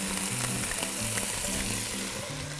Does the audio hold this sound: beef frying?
yes